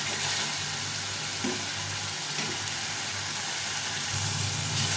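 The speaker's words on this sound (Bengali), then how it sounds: "এই মশলাটা কষা হয়ে এসছে" Spice paste for a katla fish curry fries steadily in hot oil, a dense continuous sizzle with soft stirring scrapes throughout, close and fairly loud with no voices.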